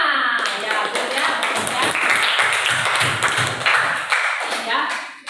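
Students in a classroom clap their hands in a quick, steady burst of close, sharp claps lasting several seconds, with voices mixed in.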